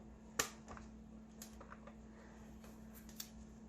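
Brother P-Touch PT-65 label maker cutting a printed label, a sharp close click followed by faint small mechanical ticks over a low steady hum, with no talking.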